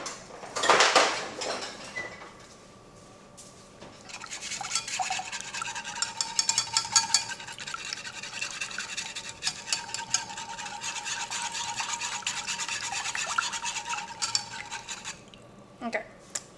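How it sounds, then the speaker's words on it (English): A whisk scrapes and clinks steadily in a bowl while stirring a yeast mixture to break up clumps, a continuous rapid rasp with a few louder knocks, close and moderately loud, with no talking. "But let me get a whisk to get all these clumps out."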